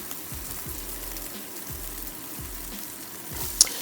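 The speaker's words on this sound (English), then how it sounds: "give it a quick stir, because that browning is what's going to give this the flavor." Vegetables browning in a pan for succotash hiss with a soft, steady sizzle, joined by a few low thumps and one sharp clink near the end.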